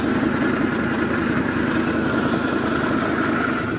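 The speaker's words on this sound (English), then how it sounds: "It does have an exhaust leak, and I think it's at the manifold." A 2010 Ford E350 Super Duty van's V10 engine idles steadily with a ticking exhaust manifold leak on the right side, a loud, even, continuous rumble with no talking.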